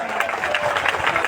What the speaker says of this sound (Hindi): सारे साथी तालियों से अभिनंदन करें